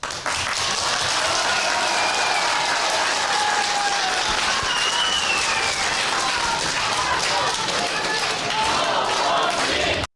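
A crowded community gathering at a district council session in Rivne region erupts in loud, continuous approving shouts and clapping, a dense unbroken roar with voices mixed throughout.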